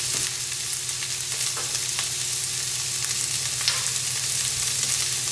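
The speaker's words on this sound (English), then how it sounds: "we're going to saute this until it's slightly caramelized brown" Celery cut on the bias, coarsely chopped onions and anchovy sauteing in a pan for Sicilian caponata, giving a steady, close sizzle and frying hiss with faint stirring clicks throughout, no voices.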